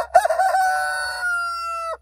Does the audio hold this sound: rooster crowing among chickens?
yes